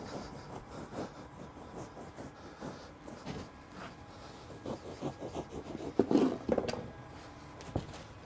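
A knife saws through rigid foam insulation board with long strokes, giving soft, close scraping and rasping in an uneven rhythm, with a louder rub near the end.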